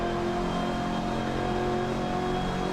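BMW M8 race car engine with a sound mod in Assetto Corsa at Road Atlanta, a steady loud droning whine at sustained revs, no voices.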